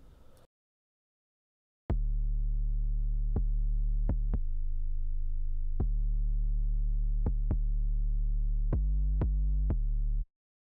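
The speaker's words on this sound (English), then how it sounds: "made a really heavy 808" Deep, heavily distorted 808 bass notes play alone in a simple looping pattern, each boomy hit sustaining with a gritty buzz, some short and some held longer, from a beat remake.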